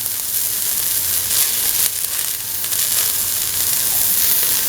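Garlic, shallots and ginger sizzling in a hot pan, a loud, bright, continuous hiss close by with slight surges as the pan is stirred.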